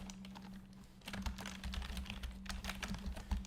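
Code typed on a computer keyboard while writing SASS styles, a quick run of close, crisp key clicks that turns faster and louder halfway through, with no talking.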